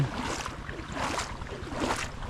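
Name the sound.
boat engine running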